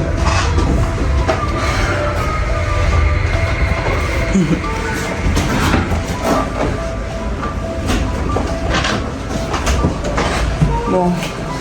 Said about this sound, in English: Look, you can see train from outside.